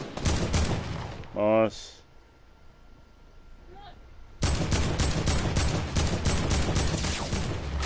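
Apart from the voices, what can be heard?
gunfire in a PS4 video game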